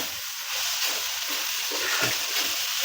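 Spice powder roasting in a hot pan for Kerala crab curry gives a steady, dense sizzle with soft stirring scrapes, close and continuous throughout.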